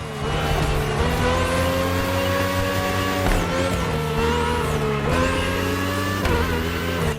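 An open-wheel race car in the video game The Crew Motorfest screams through its gears, a loud, continuous high engine howl that climbs and drops with each upshift and braking, with tire squeal and no voices.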